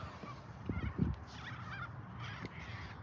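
Corella cockatoos call outdoors, harsh, raspy squawks repeating in an irregular flurry at moderate distance over a low background rumble.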